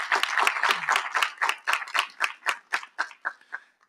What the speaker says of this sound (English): give the Student Government Association a round of applause